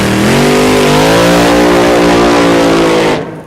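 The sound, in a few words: race car engine revving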